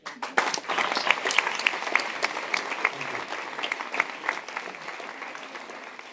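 Audience applause for a speaker at a tech conference, dense clapping from a crowd that swells quickly and holds steady for several seconds with no talk.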